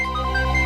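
A mobile phone ringtone plays, a short electronic melody of bright tones ringing out clearly.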